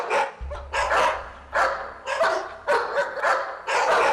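Toy dog giving out a run of sharp, evenly spaced yapping barks, about seven in quick succession, close and clear, with a low hum beneath the first few.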